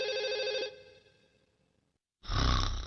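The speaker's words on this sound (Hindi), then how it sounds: "तुम्हारा फोन है। सुनियो का फोन आया है।" A telephone rings with a bright electronic tone in a Doraemon cartoon, fading into near silence, then a loud, abrupt burst of noise cuts in.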